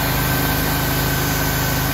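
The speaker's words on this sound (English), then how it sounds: "Got the port side motor running." Port side inboard motor of a Bertram 28 boat running, a close, loud, steady throbbing idle with a rapid low pulse and no talk.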